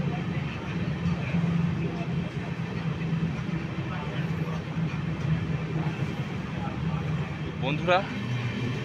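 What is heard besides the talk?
train running through Shaktigarh station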